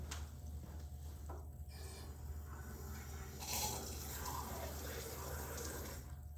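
Plain tap water runs from a faucet in a steady, fairly soft hiss and splash with a few small shifts in flow.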